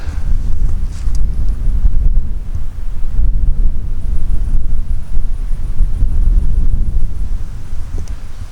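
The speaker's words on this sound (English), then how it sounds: "the wind's blowing this way" Steady wind gusting against the microphone on a mountainside along the Kotor Serpentine in Montenegro, a loud continuous low roar that swells and eases throughout with no voices.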